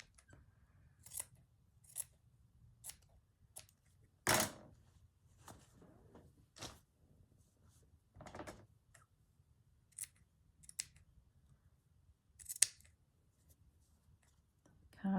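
Scissors snip through a fabric blouse near the shoulder seam during craft journal making, a series of close, crisp cuts spaced irregularly over a quiet background.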